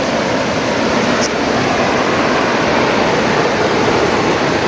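A river in Sentul rushes over its stony bed, a loud, close, unbroken roar of flowing water that fills every moment without pause.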